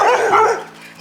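A dog barks once, close and fairly loud, a short sharp bark trailing off into a brief whine, heard alone in Uruguay.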